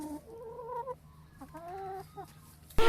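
A sickly Rhode Island Red chicken clucks in a few drawn-out, nasal calls close by, ending with a sudden loud rustle.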